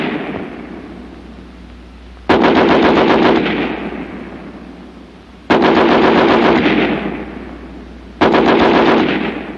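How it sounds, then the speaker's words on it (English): An American Light .30 machine gun fires 30 rounds from its bipod in a WWII weapons comparison: three loud, close bursts of rapid automatic fire, each slowly fading, with no speech. "each weapon will fire 30 rounds. First, the American Light 30 on the bipod."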